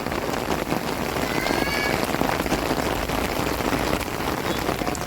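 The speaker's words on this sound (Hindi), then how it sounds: "तेज़ बारिश हो रही है, तेज़ वाली बारिश" Steady, dense rain pours down hard in a village, a constant broadband hiss of drops hitting surfaces with no pauses, close and loud throughout.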